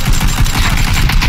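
Rapid, dense bursts of video game gunfire crackle continuously, loud and close, like automatic weapons firing in quick succession.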